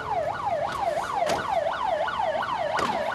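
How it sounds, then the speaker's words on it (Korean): A 119 rescue vehicle's siren wails in a steady rising and falling cycle, fairly loud and close, with a few brief sharp bursts cutting through and no voices. "사이렌 소리를 울리며 긴급히 출동하는 119 구조대."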